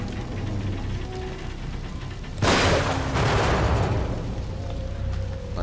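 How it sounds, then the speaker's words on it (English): Gunfire in the horror game The Evil Within breaks out as one sudden, loud, sharp blast with a short burst and rattle after it, then a ringing tail over a steady low hum, with no talking. "Alright, let's go ahead and shoot it."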